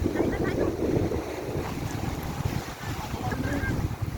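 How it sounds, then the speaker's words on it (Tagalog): Strong wind buffets the microphone in a steady low roar, outdoors in Turkey, with a faint washing of water underneath and a little muffled voice activity. "Kasi ang lakas ng hangin."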